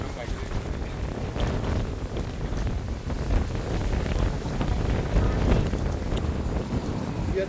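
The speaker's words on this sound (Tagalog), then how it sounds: "Ang lakas ng hangin?" Strong wind at the Golden Gate in San Francisco buffets the microphone in a constant low roaring rumble that swells and eases, loud and close, while people talk.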